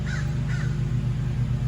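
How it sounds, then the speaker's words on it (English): Crows caw twice in quick succession, short harsh calls overhead over a steady low hum of background noise, with neighbors mowing grass nearby. "We have crows joining us."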